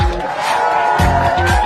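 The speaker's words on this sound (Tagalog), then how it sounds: "Ano ba yung sigawan na yun? Ano bang ingay na yun?" A crowd shouts and cheers at a Siomai King store opening in Taguig, a dense, loud wash of many voices that surges briefly, with talking mixed in.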